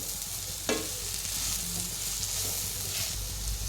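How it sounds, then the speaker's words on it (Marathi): Roasted moth beans are stir-fried in a pan, giving a steady, close sizzle throughout with occasional spatula scrapes. "असं छान आता ही मटकी अशी भाजून घेऊया मिक्स करून।"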